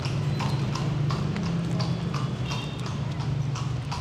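Horse hooves clip-clop along a street in the heritage city of Vigan, a steady rhythmic trot heard close over low traffic rumble, with no talk.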